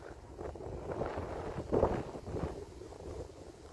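Strong wind gusting over a mountainside during a forest fire, heard as a steady rushing roar against the microphone with a louder surge near the middle.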